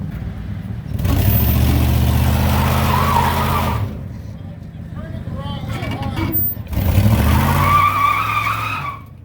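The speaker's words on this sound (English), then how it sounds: "You need to do like a burnout in reverse and just hit everything." A Ford F150 pickup does a burnout in reverse, its tires skidding and squealing loudly in two long bursts with revving engine, while people talk and shout between them.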